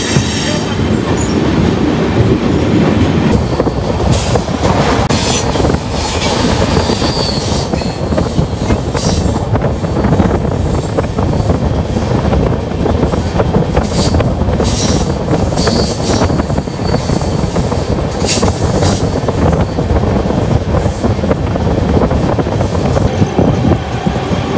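A Bangalore to Delhi train running past Cantonment in the evening: loud, continuous rolling rumble and rhythmic wheel clatter with occasional high metallic squeals, heard from on board with no talking.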